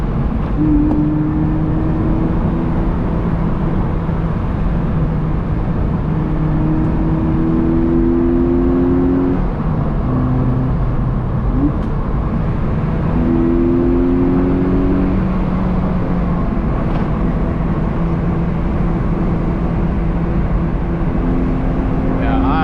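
A Mazda Miata's engine hums steadily throughout, with rising tones as it revs and shifts while driving, close and continuous under occasional talk.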